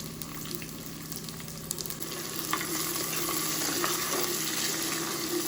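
Onions with green chilies and salt fry in a pan for egg curry, giving a steady close sizzle with occasional soft stirring scrapes.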